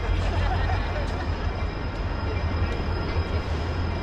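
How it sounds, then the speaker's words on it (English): A Union Pacific train passing near a bike park grand opening, a loud, steady rumble with deep low drone and a constant high metallic whine, continuous throughout with faint voices mixed in. "as you hear the train behind me"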